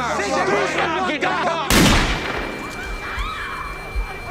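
A sharp gunshot in a film trailer cuts through a busy background of voices and music, followed by a noisy, reverberant aftermath with scattered clatter.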